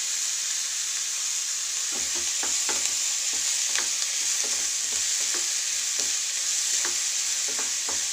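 Onions frying in a pan with salt give a steady bright sizzle, broken by a string of distinct spatula scrapes and stirring knocks from about two seconds on, with no talking.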